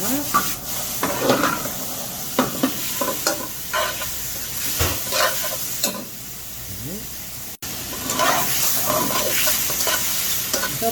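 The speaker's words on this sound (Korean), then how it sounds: "이렇게 이제 대각각 4가지 야채 재료를 센 불에 재빨리 볶아주셔야 됩니다." Four vegetables for japchae stir-fried quickly over high heat in a pan, with a continuous sizzle broken by repeated scraping and tossing strokes, close and fairly loud, and a voice talking intermittently over it.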